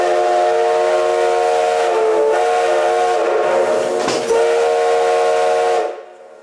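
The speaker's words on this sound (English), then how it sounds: "Jonathan had to hold his hat on when he blew that whistle" A loud steam whistle blows in one long, steady, shrill tone for about six seconds, then cuts off.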